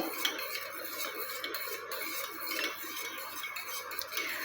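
A spoon scrapes and clinks quietly against a pan as a thick, light green homemade face cream paste is mixed, in a soft, continuous rhythm.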